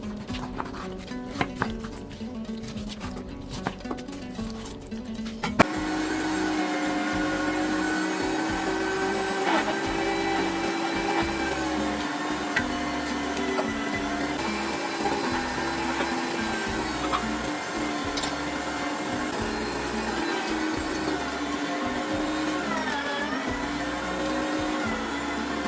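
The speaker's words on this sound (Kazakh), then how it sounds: "барлығын бөлшектерге турап, ет тартқыш немесе блендерден өткіземіз" A blender or meat grinder mincing raw liver runs steadily for the whole stretch, a loud continuous motor whir after a short rougher start.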